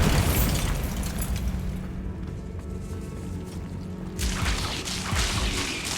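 Bombarda spell explosion in Hogwarts Legacy, a dense booming blast with rumbling debris, loud and sustained across several seconds, with a second surge of crackling bursts near the end.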